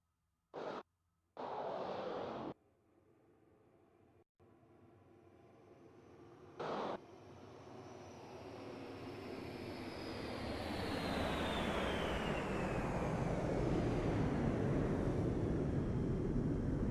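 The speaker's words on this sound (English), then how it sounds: "in the lead of this Vic formation is the venerable B-52, more commonly referred to as the Stratofortress" B-52 Stratofortress bombers of the United States Air Force pass in a Vic formation at an airshow, a deep jet roar swelling steadily from distant to loud and close, with a descending whine sweeping over it as they fly by.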